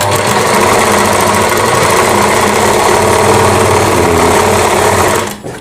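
An electric sewing machine stitching fabric for a blouse, a loud continuous rapid mechanical whir with fine rhythmic needle pulses, running alone until it winds down just before the end.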